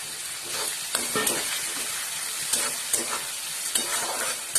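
Raisins frying in a pan over high flame for upma, giving a loud, dense, continuous sizzle with periodic scraping stir strokes rising above it, close up and alone.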